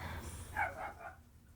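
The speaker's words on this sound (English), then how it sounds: "that dog sounded like he was right outside my window" A dog outside barks a few times, faint and somewhat distant, with short yelping bursts over a quiet background.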